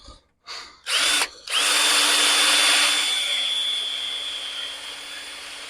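A cordless screw gun whirs in short bursts, then runs in one long high-pitched spin that slowly eases off, close by, during work on a Mack Granite truck door gasket.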